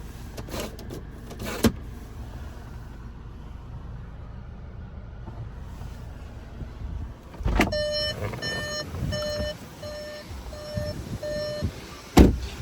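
A Volkswagen Arteon's parking sensors beep in a steady series of short, evenly spaced tones over faint cabin noise, with a few soft clicks and thumps.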